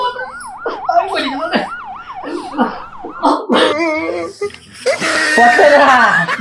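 A wailing siren with a rapid up-and-down pattern, likely a voice imitating it, followed by laughter and chatter.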